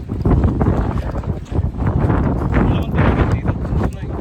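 Strong wind buffets the microphone in loud, rough gusts, rumbling low and continuously throughout, on a walk in You Yangs Regional Park.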